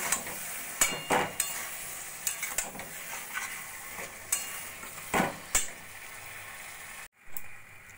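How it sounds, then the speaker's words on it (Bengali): Beans being stirred in a pan with a paste of onion, tomato, sesame and green chilli, with a steady sizzle, repeated scraping and knocking of the spoon, close and without talk. "এইভাবে আস্তে আস্তে করে শিমের সঙ্গে মিশিয়ে দেব।"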